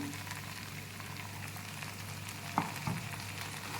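An onion, tomato, pepper and cumin paste fries in oil in a pan for dry mango and ladies finger vathal kulambu, giving a steady close sizzle with a couple of spoon scrapes near the end.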